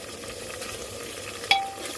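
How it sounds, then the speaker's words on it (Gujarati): Chopped tomatoes tipped into a pan of frying onions: a steady soft sizzle with light stirring, then a single brief knock as the tomatoes land. "હવે અંદર ટામેટા નાખી દેશું।"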